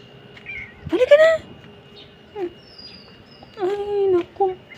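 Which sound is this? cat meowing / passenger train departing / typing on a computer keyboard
cat meowing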